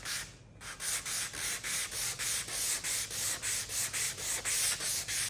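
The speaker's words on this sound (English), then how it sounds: "I should just be able to sand that out with some sandpaper real quick." Sandpaper rubbed by hand across an end grain wooden cutting board in steady back-and-forth strokes, a close, even rasping rhythm of about three strokes per second with no talking.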